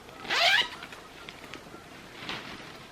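A burgundy zipper on a handmade bag is pulled open in one quick, close rasp, followed by faint handling noises and a softer rustle.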